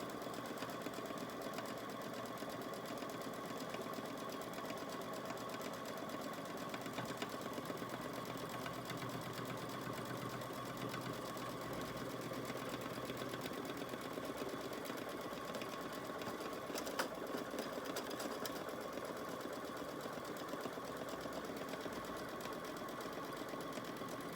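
An embroidery machine tacking down a medical mask runs in a steady, faint mechanical whir with a fast stitching rhythm, unbroken and even throughout.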